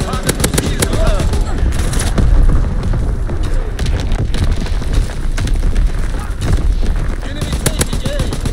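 A dense, unbroken roar of artillery and automatic gunfire fills a battlefield video game scene, loud and continuous, with radio callouts spoken over it.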